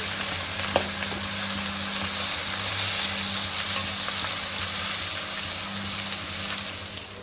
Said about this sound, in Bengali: এই পাশে ইলিশ মাছগুলো ভেজে নিচ্ছে